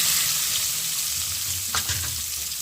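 Thinly sliced onions and green chillies fry in a pan over a wood-fired stove, giving a close, continuous sizzle with a couple of brief stirring clatters near the end and no talk.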